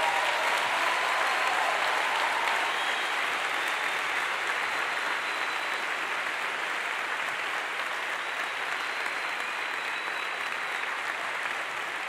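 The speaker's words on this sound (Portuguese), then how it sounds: "Você pode aplaudir Jesus." Church congregation applauding steadily after a prayer, a dense, sustained wash of clapping from a large crowd that fills the whole stretch and eases slightly toward the end.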